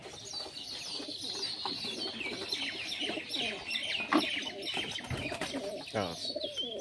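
Pigeons cooing at a loft while a quality racing pigeon is released, soft repeated coos and chirps mixed with rustling and other birds, moderately close, with no talk.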